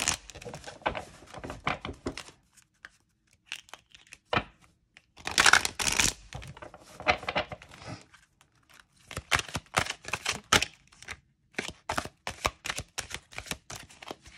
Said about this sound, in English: Side shuffling is pretty easy.